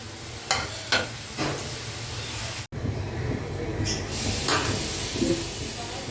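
Bay leaves and cumin seeds sizzling in hot oil in a wok, a steady frying hiss with a few sharp spits and bursts, broken by a brief cut near the middle.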